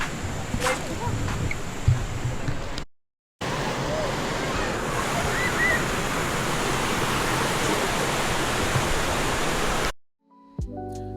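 Steady broadband rush of a long river flowing down tiered rapids at Jeram Toi, Negeri Sembilan, loud and continuous, with brief cuts to silence partway through.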